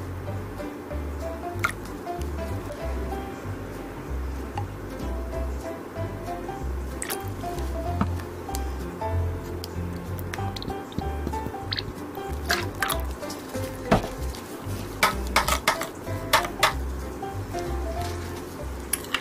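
Sugar, mirin, tuna sauce and vinegar being stirred into a seasoned soy sauce in a bowl, making soft wet squishing and sloshing with faint clinks, steady and close.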